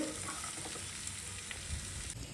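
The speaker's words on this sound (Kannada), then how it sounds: "ನೋಡಿ, ಫ್ರೈ ಆಗಲಿ ಇದು ಚೆನ್ನಾಗಿ." Capsicum curry fries in a pan with a steady, fairly quiet hiss and crackle. It runs unbroken throughout, with no voices.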